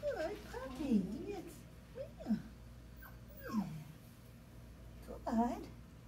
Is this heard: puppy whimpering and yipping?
yes